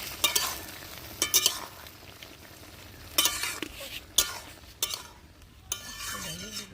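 Stirring rohu fish roe into Malabar spinach stalks in a pan, with soft scraping and clinking strokes at irregular intervals over a low background sizzle, close and moderately quiet.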